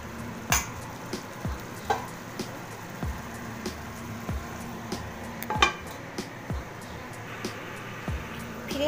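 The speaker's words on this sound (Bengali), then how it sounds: "তিন থেকে চার মিনিট ঢাকা দিয়ে মশলাটাকে কষিয়ে নিতে হবে।" Spice masala cooks in oil in a pan for a stuffed pointed gourd dish, with a steady sizzle under repeated scraping and stirring clinks from a spoon at an even rhythm, close and moderately loud.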